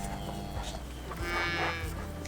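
Young dairy calves on a farm moo in deep, low voices, several overlapping calls close by over a steady barn background, with no talking.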